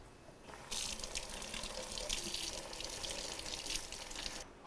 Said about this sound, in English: I'm just going to rinse them under a little bit of water to loosen the capsule